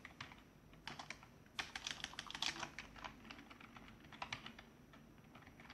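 Rapid typing on a computer keyboard, with irregular bursts of crisp key clicks close to the microphone that pause briefly between runs, no talking.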